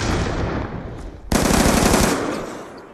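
Rapid automatic gunfire in the Black Ops 2 video game, a loud sustained burst that briefly dips, then resumes with a sharp crack and continues dense before tapering off.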